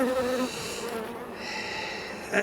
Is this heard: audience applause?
no